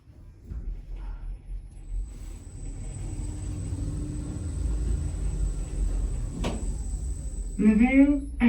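A modernised Infinity lift at Hazelhatch & Celbridge railway station hums and rumbles steadily as it travels upward, with a thin constant whine and a brief clunk near the end before a chime-like tone sounds.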